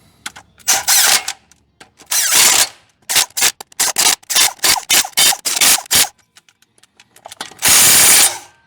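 An impact gun tightens engine bolts during a 4L80E transmission install in a shop, firing in loud repeated rattling bursts, some long and some short, separated by brief pauses.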